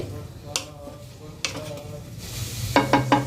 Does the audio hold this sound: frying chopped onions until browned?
yes